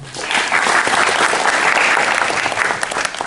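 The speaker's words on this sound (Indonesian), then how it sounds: "Marilah kita berikan aplaus untuk kita semua." An audience claps throughout at a live regional arts and culture event in Bali, a dense, steady applause that stays loud and close from start to finish.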